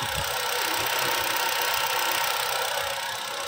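The engine of a Chevrolet Spin running after a power steering rack replacement, a steady close mechanical hum with faint ticking and vibration, no talking.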